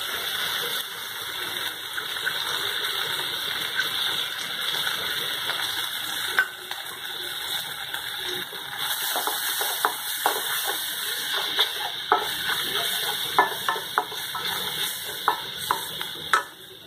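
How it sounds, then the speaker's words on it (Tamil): Food sizzles steadily in a pan as water splashes in over chilli powder and ginger garlic paste. Scattered stirring clicks follow, close and fairly loud, with no voices. "கொஞ்சமாக தண்ணி விட்டுக்கலாம்."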